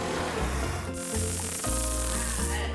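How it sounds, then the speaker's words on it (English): An Axe deodorant aerosol can sprays in a continuous loud hiss that runs through the whole stretch, heard close and on its own with no talk. "we just need some Axe deodorant spray"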